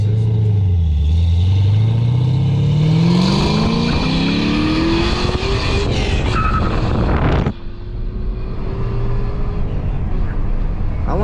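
LS-swapped Nissan 300ZX accelerating hard, engine note climbing loudly through the gears with a sharp shift near the end, heard close and dominant with faint voices mixed in.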